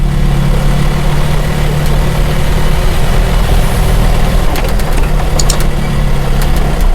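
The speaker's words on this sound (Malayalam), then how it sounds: "എൻജിൻ ബ്രേക്കിൽ ഇറങ്ങുന്നല്ലോ." A loaded truck's heavy diesel engine drones low and steady while engine braking down a narrow road, with a constant rumbling hum and a few faint clicks toward the end.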